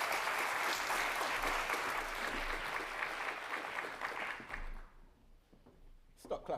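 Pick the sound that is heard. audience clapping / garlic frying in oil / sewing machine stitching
audience clapping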